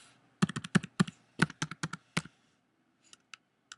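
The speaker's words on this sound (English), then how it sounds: "You type in site, colon, no space, and then the name of," Crisp keystrokes on a computer keyboard as a site-restricted web search is typed, a quick close run of about a dozen taps, then a pause and a few scattered presses.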